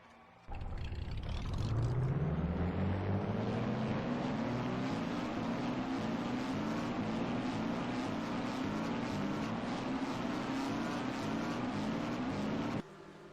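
Race car engines roar in a racing video game at Michigan as forty cars start up together, a loud steady drone rising in pitch and holding for over ten seconds before cutting off abruptly.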